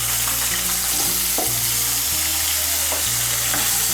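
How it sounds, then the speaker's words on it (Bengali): Cut potato pieces frying in hot oil for a bottle gourd greens dish, a loud continuous hiss and crackle with a few soft stirring scrapes, close and steady throughout. "এখন আমি এই তেলের মধ্যে দিয়ে দেব আলু"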